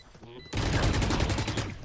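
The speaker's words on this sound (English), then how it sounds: "Shot my wingman." A sudden loud burst of gunfire in a ranked Valorant match, a dense rattle of rapid shots cutting in after a quiet half second and carrying to the end.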